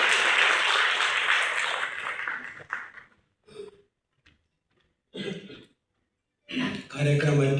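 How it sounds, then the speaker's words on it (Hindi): An audience at an award ceremony for a memorial honour claps in a sustained burst of applause that fades out, followed by a few short scattered bursts of clapping and noise and a louder burst at the end. "जोरदार तालियां।"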